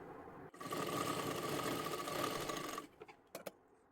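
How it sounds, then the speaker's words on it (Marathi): A sewing machine stitches a folded lehenga hem in one sustained whirring run of about two seconds, then stops, followed by a few short mechanical clicks and taps, close and clear. "पूर्ण व्यवस्थित शिलाई मारून घ्यायची आहे"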